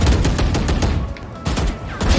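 A light machine gun fires in Valorant, a rapid string of loud close shots that breaks off briefly and then resumes, with no voices over it.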